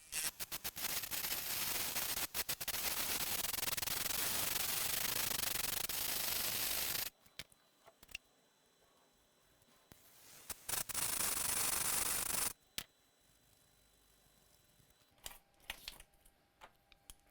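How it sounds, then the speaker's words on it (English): A rotary tool grinds a laptop circuit board to clear a short, a harsh close-up scraping hiss in two long bursts, with quieter clicking and handling in between. "I'm being aggressive on the grinding so we can get as much out as possible"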